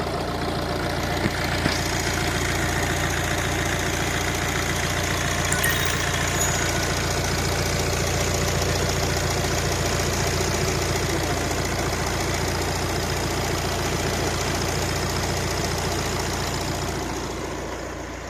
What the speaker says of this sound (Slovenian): Motor dela brezhibno, zelo lep zvok ima,